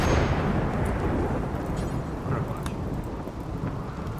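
In the video game Rimworld, steady heavy rain hisses while a low thunder rumble rolls through, filling the whole span without voices.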